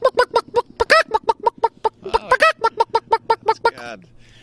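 A man mimics a chicken at the Multnomah County Fair, voicing a long string of rapid, rhythmic clucks with a few higher squawks mixed in, loud and close, with no other talk.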